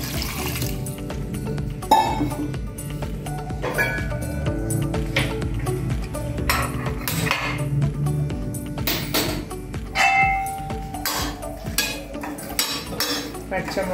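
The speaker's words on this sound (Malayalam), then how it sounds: "കുറച്ച് വെള്ളം ആവശ്യത്തിന് വെള്ളം വെച്ച് വേവാൻ വെക്കാം" Water is added to a pot of tapioca and sliced green chillies set to cook, with clattering of the pot, splashing and clinking utensils throughout at close range, fairly loud and busy.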